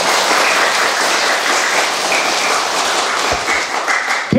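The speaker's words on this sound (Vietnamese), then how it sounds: "cho một tràng pháo tay" Children in a classroom break into a dense burst of applause, loud and continuous for a few seconds before tapering slightly at the end.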